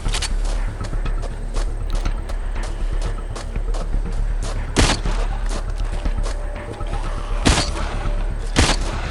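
Shotgun and pistol shots ring out in a zombie train shooter, sharp loud bangs spaced irregularly over a constant busy game rumble, with a few heavier blasts standing out.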